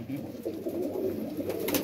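Rampuri pigeons coo in soft, low, throaty rolling calls, close and continuous over about two seconds.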